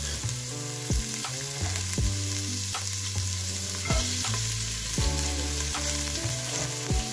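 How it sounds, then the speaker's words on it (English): Onions sizzle in hot oil in a pan for a beans stew, a steady close frying hiss with repeated stirring knocks and clinks of a utensil against the pan, with no voices. "I have already added some oil inside our pan, so I want to add some onions."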